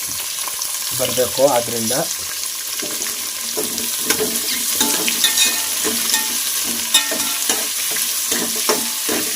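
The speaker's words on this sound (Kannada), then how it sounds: "ಈರುಳ್ಳಿ ಎಲ್ಲವೂ ಕೂಡ ಹಾಕ್ಕೊಂಡು ಫ್ರೈ ಆಗಬೇಕು" Onions sizzling and frying in a pan for vegetable pulao, a steady close hiss stirred with a utensil in repeated scraping strokes, with brief talk at the start.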